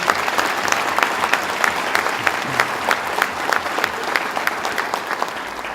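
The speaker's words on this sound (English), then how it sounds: "Let's give them another round of applause, please." A crowd applauding steadily, dense clapping that holds at the same loudness throughout without pause.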